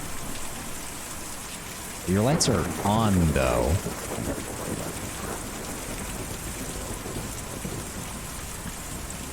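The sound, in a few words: rain falling with thunder in video game Kentucky Route Zero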